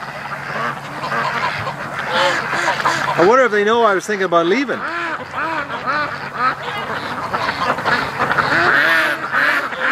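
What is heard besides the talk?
ducks quacking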